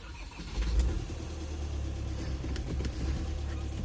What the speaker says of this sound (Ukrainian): тепер заводимо моторчик